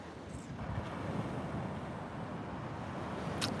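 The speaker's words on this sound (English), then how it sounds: "I love the sound of waves." Ocean waves on a Fort Lauderdale beach at sunrise, a steady broad wash of surf mixed with wind noise on the microphone, continuous and moderately loud, with no speech.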